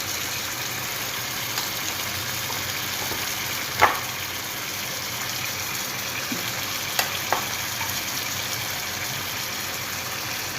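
Tomato paste fries in a pot for chicken majboos, a steady low sizzle with a handful of sharp spoon knocks and scrapes as it is stirred.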